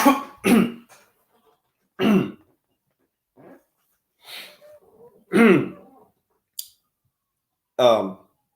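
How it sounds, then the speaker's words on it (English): Several harsh coughs and throat clearings come in separate bursts with quiet gaps between, close to the microphone, plus a few faint murmurs. "Sorry, I coughed."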